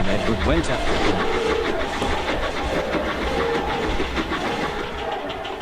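A train engine rushes past close by with a loud rumble and clickety-clack of wheels. A voice narrates over it throughout.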